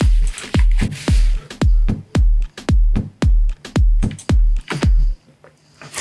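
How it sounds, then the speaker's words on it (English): Afro House drum pattern programmed in FL Studio: a steady four-on-the-floor deep kick with crisp percussive hits and shaker ticks in a rolling groove, about ten punchy beats before it stops near the end. "We're gonna start with the drums, and they sound like this."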